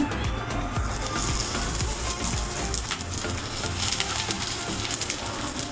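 Bhetki fish paturi, fish parcels wrapped in leaves, sizzle and crackle steadily in a little hot oil in a pan, a close, continuous frying hiss throughout.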